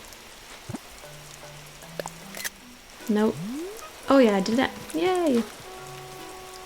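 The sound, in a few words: rain in video game Animal Crossing New Horizons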